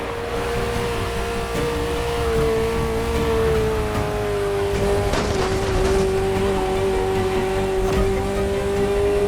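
A Ferrari sports car engine in the racing video game The Crew Motorfest holds a steady, sustained drone, with pitch shifting slightly as the car drives, loud and continuous with no talking.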